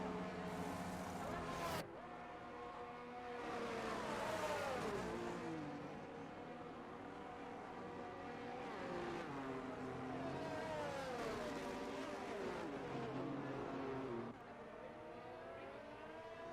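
Race car engines roar in a PC racing game round set at Brazil, with cars heading into the pit lane, rising and falling revs and whining gear changes running steadily beneath commentators talking.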